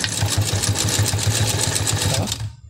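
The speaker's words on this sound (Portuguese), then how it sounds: "Ela tem motor original, tá? Essa ainda, ó, aquele motor com ajuste de velocidade, tá? Velocidade 1" A Singer 244 sewing machine with its original speed-adjustable motor runs at its first speed setting, giving a steady, loud mechanical whir with a quick regular needle-stroke rhythm that stops abruptly near the end.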